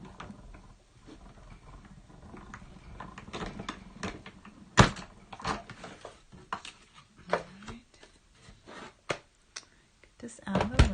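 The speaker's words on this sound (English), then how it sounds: "I'm gonna die cut this." A die cutting machine cuts a stamp border with quiet, irregular mechanical clicks, taps and rattles, with a few sharper knocks and a voice heard faintly at times.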